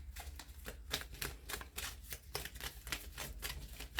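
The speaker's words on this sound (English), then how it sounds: "These cards are a little difficult to shuffle, only because they're heart-shaped." Heart-shaped tarot cards riffle and shuffle in a steady run of quick, soft flicks and slaps, close but quiet over a low hum, with no talking.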